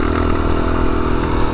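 Motorcycle engine revving while riding through the Australian bush, a loud continuous close-up drone with clattering and scraping over the whole short stretch.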